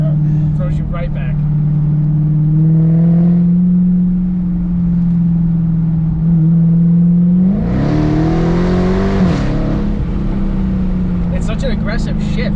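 Dodge Charger Daytona Hellcat heard from inside the cabin under hard acceleration, a steady loud engine drone that climbs sharply in pitch and surges midway, with occasional speech over it.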